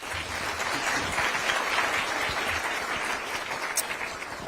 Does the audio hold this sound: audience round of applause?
yes